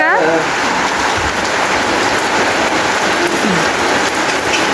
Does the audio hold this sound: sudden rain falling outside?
yes